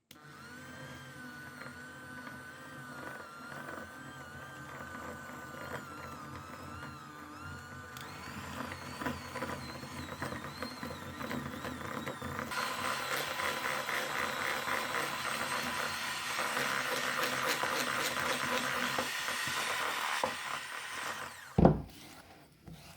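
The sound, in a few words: mixer creaming butter and sugar for raisin cake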